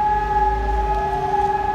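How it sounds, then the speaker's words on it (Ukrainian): Steady, sustained wail of a civil defense air raid siren during a test in Prague, holding constant tones with a low rumble beneath, no voices. "Ви чуєте сирену?"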